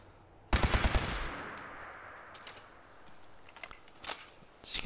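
A rapid burst of automatic gunfire from a weapon in the video game Fallout 4 rings out loud and close, then tails off into a fading echo with a few faint clicks and shots afterward.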